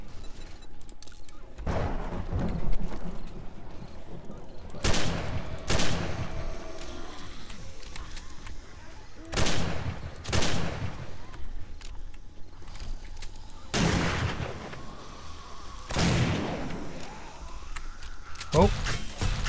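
Junk turret gunfire in the survival game 7 Days to Die, a series of spaced, sharp booming shots several seconds apart, with a speaking voice between them.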